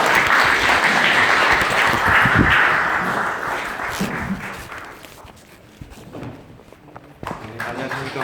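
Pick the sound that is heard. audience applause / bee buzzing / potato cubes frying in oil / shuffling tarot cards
audience applause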